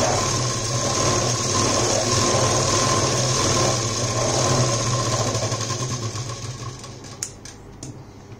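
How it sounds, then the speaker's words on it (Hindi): A sewing machine stitching fabric for a neck design runs as a continuous fast, close whirring chatter that slows and stops near the end, followed by a couple of sharp clicks. "सीधी साइड ऐसे पलटी करके मैं दोनों साइड हाफ हाफ में सिलाई लगा दूंगी"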